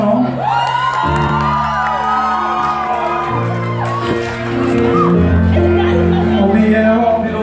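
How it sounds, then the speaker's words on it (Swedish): A crowd cheers, whoops and shouts loudly at a live event aboard the Silja Galaxy cruise ferry, with sustained tones that sound like music or held voices running under the noise throughout. "En applåd till honom."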